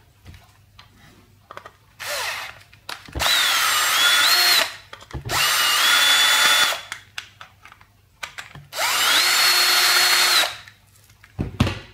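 A power screwdriver removes three screws from the casing of a cheap 18650 lithium-ion cell charger, whirring in three separate loud bursts of a couple of seconds each, with small clicks and handling noises between them and no talking.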